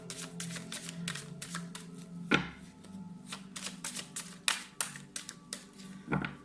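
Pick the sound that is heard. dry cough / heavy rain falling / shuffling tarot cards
shuffling tarot cards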